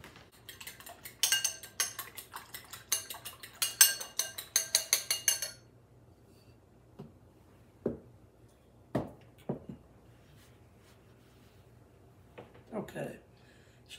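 Beating eggs in a bowl with a fork for potato croquettes, a quick run of rhythmic metallic clicking for about five seconds, then a few isolated clinks and taps, with a person talking.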